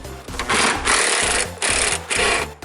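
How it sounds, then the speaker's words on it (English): A ratchet spins with a fast buzzing rattle as a 10mm socket removes the tail light nuts on a 2001–2009 Jaguar X-Type, loud and close, in several quick bursts separated by brief pauses. "now we have 3 nuts with a 10mm socket that we need to remove"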